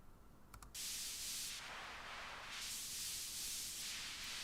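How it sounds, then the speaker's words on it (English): Synth noise swept through a moving bandpass filter in an EDM production, a steady hiss whose brightness rises and falls in slow waves after a short quiet lead-in, with no voice. "It's a bandpass filter,"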